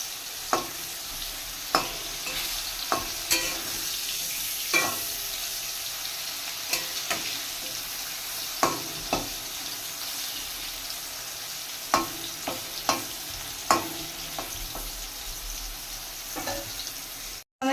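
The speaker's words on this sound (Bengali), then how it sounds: "কুমড়ো ভাজা হচ্ছে এখন" Pumpkin slices fry in a pan with a steady, soft sizzle broken by occasional sharp pops and stirring clicks, close and continuous with no talking.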